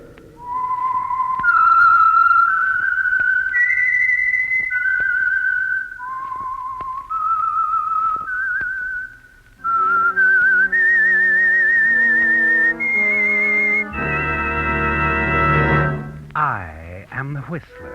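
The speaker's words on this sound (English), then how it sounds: "That whistle is your signal for the Signal Oil" A lone whistler carries the slow, eerie theme of the radio mystery program The Whistler, sponsored by Signal Oil. Sustained, clear notes glide up and down for the whole stretch, loud and close, ending in a brief swooping, wavering flourish.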